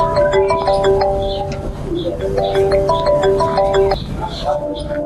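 A mobile phone rings with an incoming call, a repeating electronic melody of bright tones in short phrases, played close while a person talks over it.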